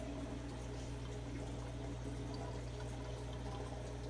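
Water pours and splashes steadily and loudly without a break during a 50% water change on a South American paludarium, alone with no voices.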